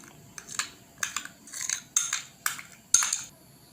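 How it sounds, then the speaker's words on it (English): A spoon scoops mayonnaise into a mixing bowl for Russian salad, with a run of about seven sharp metallic clinks and scrapes against the bowl, close up and without talk. "Put the mayonnaise into the mixing bowl."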